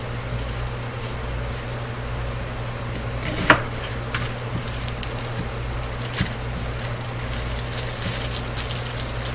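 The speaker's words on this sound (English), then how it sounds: "I'm gonna put our meat in here." Meat frying in a hot pan makes a steady, loud sizzle with a low constant hum beneath, broken by a sharp clatter early and a softer knock later, close by and without speech.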